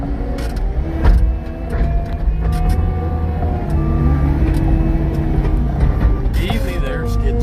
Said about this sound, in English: Easy there, skid steer.